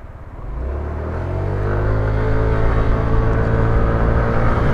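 A Yamaha NMax scooter engine pulls steadily under acceleration while riding, its loud rising drone holding a continuous, smooth pitch with a low rumble and no voices.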